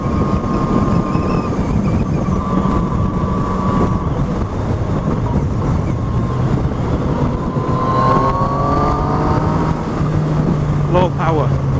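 A Yamaha MT-09 motorcycle ridden gently through wet, windy weather: a constant roar of wind buffeting runs throughout, with a low engine drone beneath it and a tone that climbs as the bike speeds up near the end.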